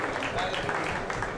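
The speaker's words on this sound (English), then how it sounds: "but lots of applause." Applause for marathon runners at a race presentation the day before a half marathon in Rome, a brief dense burst of clapping with a voice over it.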